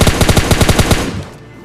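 Rapid M4 rifle fire in a mobile shooter game, a loud close burst of about ten evenly spaced shots that stops abruptly, followed by a short decaying tail.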